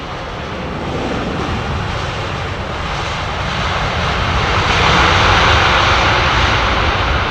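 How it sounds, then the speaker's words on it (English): Airliner landing at London Heathrow with thrust reversers engaged, a loud broadband jet roar that swells toward the end, heard alone without talking. "Pulling the reversers on before the front wheels even touch the ground."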